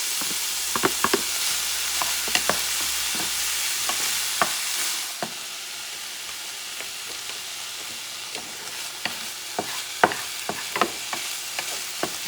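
Onion and potatoes fry in a pan alongside wild boar breakfast sausages for a hash, a continuous close sizzle broken by repeated sharp scrapes and taps of a utensil stirring, with no one speaking.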